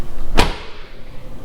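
A car door slams shut once, a sharp loud thud near the start that quickly decays into quiet cabin ambience.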